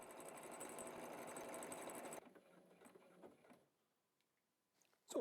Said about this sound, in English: start the machine via the Start-Stop button and it will sew the buttonhole fully automatically